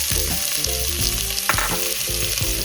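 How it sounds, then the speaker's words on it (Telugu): Chopped onions frying in hot oil with tempered spices in a pan, a steady crackling sizzle with stirring scrapes throughout, close and fairly loud with no talking. "పోపు దినుసులు చిటపటలాడిన తర్వాత ఆనియన్స్ వేసుకొని"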